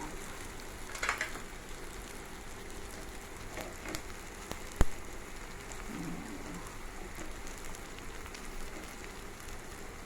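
Garlic frying in a pan after onions while shrimp paste with egg is cooked: a soft, even sizzle runs throughout, faint and steady, with one sharp tap midway and no talking.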